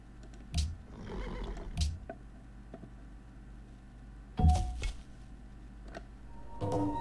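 A horse neighs in the Civilization V strategy game, with two or three short whinnies and snorts set against a faint ticking background and soft game ambience, no speech.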